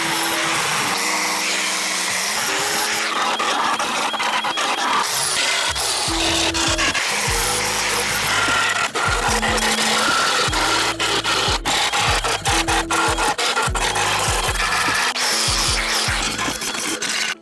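A power tool grinds and sands crash-damaged metal car body panels on a Toyota GR Supra in a long, harsh rasp, its motor pitch rising and dropping as it starts and stops repeatedly.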